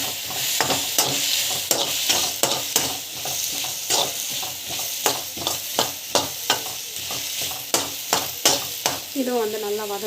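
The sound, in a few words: mint and coconut sautéing in a pan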